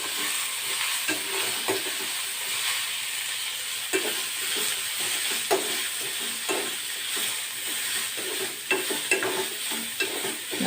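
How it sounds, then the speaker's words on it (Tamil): Mint leaves frying in a hot pan, heard as a continuous bright sizzle with repeated stirring scrapes close by and no talk. "புதினா நல்லா வதங்கணும்."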